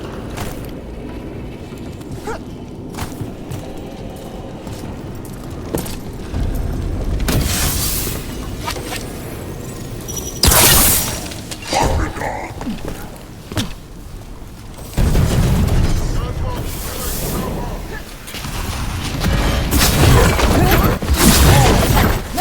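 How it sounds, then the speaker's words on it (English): Cannon fire booms in the Dragon Age: The Veilguard video game, several heavy blasts spaced seconds apart over a rumbling, clattering battle backdrop. "Cannon fire! Get clear!"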